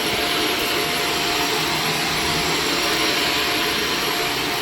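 A carpet-cleaning vacuum runs on a heavily soiled, sticky carpet, a loud, steady, close-up roar with a high whine that holds unchanged throughout and no talking.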